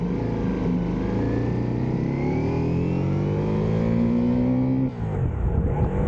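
Ducati Diavel V4 motorcycle engine pulling away, a steady droning rumble with rising pitch as it accelerates, then a brief dip and shift near the end, close and loud with no talking.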